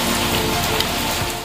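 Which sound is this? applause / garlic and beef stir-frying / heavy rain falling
heavy rain falling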